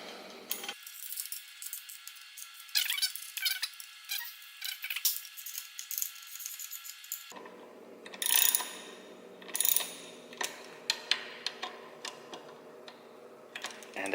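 A ratchet tightens bolts on a Suzuki V-Strom 1000 top case mounting plate, with bursts of close clicking repeating irregularly over a steady background hiss.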